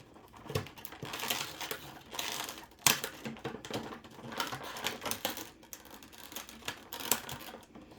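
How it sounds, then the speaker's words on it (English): Scissors snipping through the plastic packaging and tabs holding a McFarlane Toys DC Multiverse action figure, with close, irregular crinkling and cutting sounds throughout and a few sharper snaps. "Let me cut him out of his plastic prison."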